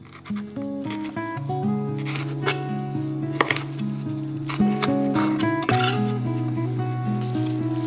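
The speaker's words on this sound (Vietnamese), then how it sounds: "Cắt sợi một ít ớt để trang trí." A kitchen knife slices chili peppers into thin strips on a cutting board, a run of short, crisp taps and scrapes, close and fairly loud, over a musical backing.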